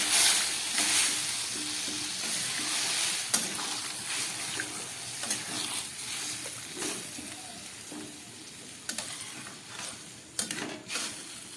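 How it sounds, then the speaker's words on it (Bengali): Water is poured into a pan of vegetables sautéed with spices, giving a bright hissing sizzle with splashes and a few sharp utensil clinks close by. "এবারে দিয়ে দিচ্ছি জল।"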